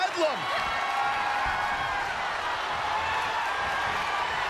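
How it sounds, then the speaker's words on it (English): Wrestling arena crowd in the WWE 2K23 video game, a steady wash of cheering and crowd noise held at a constant level, with a short rising squeal near the start. "Look at this crowd. It's insanity in here. Bedlam."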